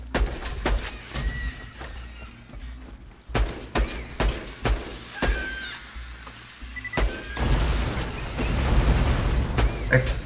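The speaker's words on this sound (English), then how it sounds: "Explosions!" Repeated heavy booms and thuds from explosions in Borderlands 2 burst out irregularly over continuous game noise, building to a dense rumbling stretch near the end.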